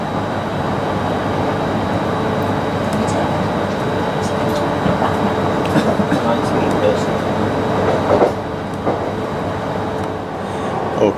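A train heading for Leeds or Bradford rumbles past at moderate distance, a continuous broad roar with faint rattles and a brief louder burst toward the end; voices may be faintly present.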